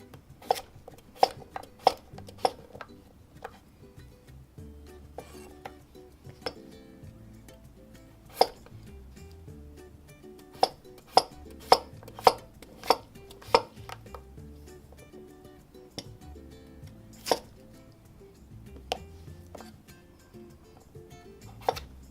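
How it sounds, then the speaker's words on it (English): A knife chops potatoes into small cubes for vegan potato salad, with sharp taps on a cutting board that come in irregular clusters and pauses. The tapping is fairly quiet and there is no talking. "now we have a nice pile of chopped up potatoes"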